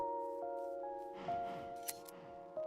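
Shears clipping wool from a sheep in Minecraft, a few short snipping clicks over a steady tonal game music background, quiet and close with no talk.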